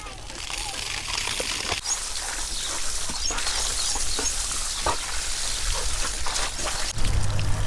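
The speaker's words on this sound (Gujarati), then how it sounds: "હવે જો ભાઈ પાણી તો શરૂ છે." Water from a motor-driven pipe with a small nozzle is sprayed over a farm animal at a village farm, making a steady, close hiss and patter that runs throughout with little change.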